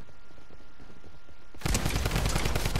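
Rapid Fortnite gunfire bursts out loud after a quieter stretch of faint in-game sounds, a dense run of automatic shots that carries on to the end.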